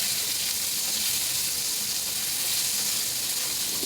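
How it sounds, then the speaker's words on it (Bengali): Potato pieces rubbed with salt and turmeric fry in hot oil in a pan, giving a steady, loud, close sizzle that runs evenly throughout with no talking. "আলুটা বেশ ভালো করে ভেজে নেব আমি।"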